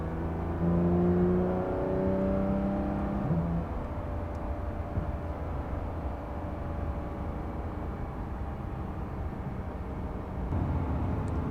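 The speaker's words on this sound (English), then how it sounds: "I would like this exhaust to be louder." A Porsche 911 GT3 RS accelerates with a rising exhaust note that fades into a steady low cabin drone; moderately loud, no talking.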